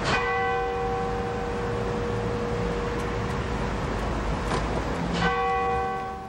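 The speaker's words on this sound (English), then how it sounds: "Bells of remembrance tolled over London" Church bells toll over London on a sombre day of mourning, a loud sustained bronze ring with fresh strikes near the start and again around the fifth second, the tones hanging and fading over a steady background hiss.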